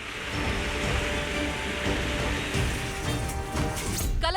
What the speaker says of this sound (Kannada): ಕಲಬುರಗಿ ಬೀದರ್ ಜಿಲ್ಲೆಗಳಲ್ಲಿ ಧಾರಾಕಾರ ಮಳೆಯ ಹಿನ್ನೆಲೆ ಕಾಗಿನಾ ನದಿ ಬೋರ್ಗರೆಯುತ್ತಿದೆ